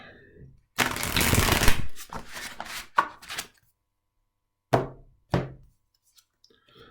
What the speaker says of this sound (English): So let's see what's going on with the cards.